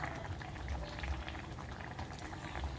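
Milkfish in shrimp paste simmers in a covered pot, producing a soft, steady bubbling with faint pops, quiet and close.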